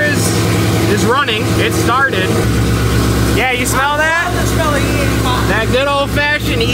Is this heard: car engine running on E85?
yes